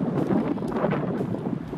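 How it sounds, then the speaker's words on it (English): Wind buffets a microphone outdoors in a steady low rumble, gusting slightly throughout with no voices. "It's a little windy, so hopefully you guys can hear this video."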